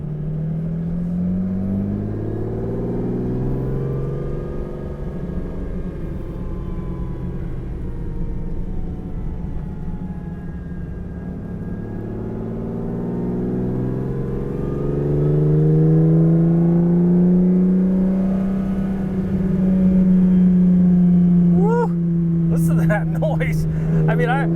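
A black Ferrari 365 GTC/4 engine drones steadily while driving, its low rumble rising and swelling in the second half as the car pulls harder, with a brief clatter near the end.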